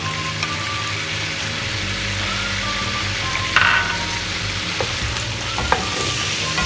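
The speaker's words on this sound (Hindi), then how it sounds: "और इसे भी अच्छी तरह फ्राई करूँगी लहसुन अदरक के साथ।" Ginger-garlic paste and chicken fry in hot oil in a karahi, giving a loud, steady sizzle with occasional clinks of stirring, close and continuous, with no talking.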